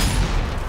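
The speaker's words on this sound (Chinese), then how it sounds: "有开枪的，有开枪的，会开枪的僵尸救命啊" Zombie enemies open fire in the shooter game Zombie Army 4: Dead War, a short loud burst of overlapping gunshots and booms dominating the brief moment.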